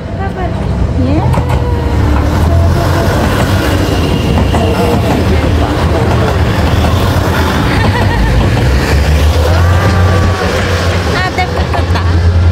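A train pulls into a station in Japan during cherry blossom season, a steady loud rumble with rail clatter throughout, while people talk nearby.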